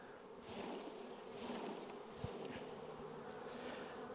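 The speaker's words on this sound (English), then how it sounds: "I'm going to shake some bees in" Honey bees buzz loudly and continuously at close range as a mass of them is shaken into a hive at an apiary, with a dense droning swarm sound throughout.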